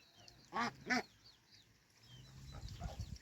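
Two loud nasal duck quacks, from young drakes, sound close by, followed by softer chirps and a low rustling murmur in the background.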